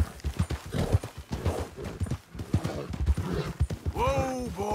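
Horse hooves clip-clop in a steady rhythm, then a loud whinny near the end, heard close and clear.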